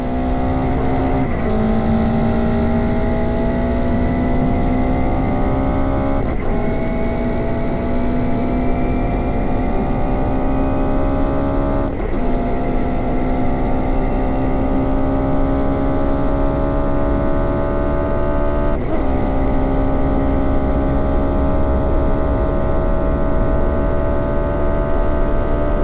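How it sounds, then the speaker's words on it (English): A race car engine on the Bonneville salt flats accelerates steadily, its drone climbing in pitch and dropping back at gear changes about every five seconds, loud and constant throughout. "The engine pulled, and they were off."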